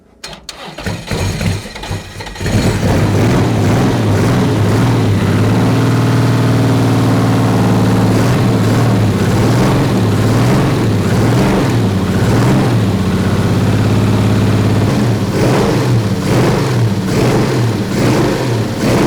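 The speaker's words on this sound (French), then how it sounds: "on va procéder au démarrage de la voiture" A BMW 3.0 CSL's six-cylinder engine cranks briefly, catches and settles into a loud, close, throaty idle, then revs in repeated rising and falling swells over nearly twenty seconds, with no voices.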